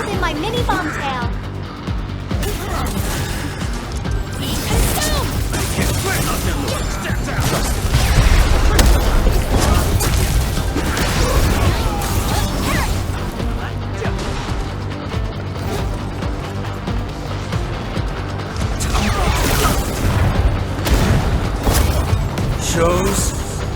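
Mini bomb explosions in Arknights Endfield gameplay, with dense booms, crashes and mechanical clatter piling up loudly and continuously, under a busy game soundtrack and a voice.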